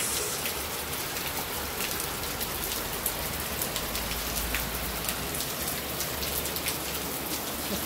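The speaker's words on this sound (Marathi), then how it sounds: "पाऊसच पाऊस आहे चौकडं।" Heavy monsoon rain in Karjat pouring down steadily on surfaces, dense and close, with no pauses.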